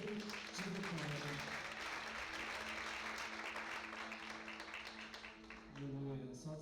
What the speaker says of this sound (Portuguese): com palmas bem alegres de vitória